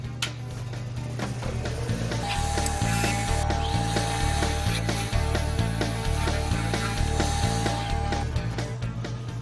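A wood lathe spins a workpiece while a tool cuts a dovetail on its tenon, making a loud rhythmic mechanical clatter with a repeating knock and a thin steady whine running through it.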